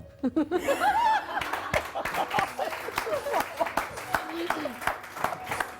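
Clapping and applause on a Pakistani morning TV talk show, scattered claps mixed with chuckles and laughter, with people talking over them throughout.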